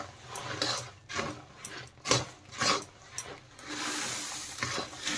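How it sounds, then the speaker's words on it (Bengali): Puffed rice is stirred into sticky cooked jaggery in a pan, producing close, irregular scraping and rustling pulses as the mixture is turned over, quieting into a soft steady rustle near the end. "গুড়ের সাথে কিন্তু মুড়ি ভালো করে মিশিয়ে নিতে হবে, এইভাবে নেড়ে চেড়ে।"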